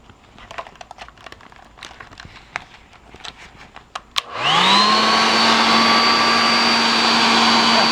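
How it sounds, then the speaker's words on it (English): A few light taps give way to a fan or dryer switching on abruptly, then blowing loudly and steadily with a whirring whine to dry paint on a conch shell painting. "you can still hear me as I yell over this fan"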